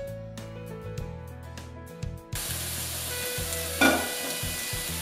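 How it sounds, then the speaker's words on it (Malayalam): Chopped onions dropped into hot oil set off a sudden broadband sizzle partway through that holds steady to the end, after a quieter opening with tonal background sound; no one speaks. "എണ്ണ ചൂടാകുമ്പോൾ അതിലേക്ക് നമ്മൾ അരിഞ്ഞു വെച്ചിരിക്കുന്ന സവോള ഇട്ട് വഴറ്റിയെടുക്കാം."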